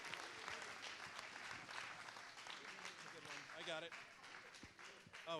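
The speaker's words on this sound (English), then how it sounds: "Let's thank him with a big round of applause" Applause at a charity awards night and live auction fills the room, a broad dense clatter of clapping mixed with voices and crowd chatter, quiet overall and continuous from start to finish.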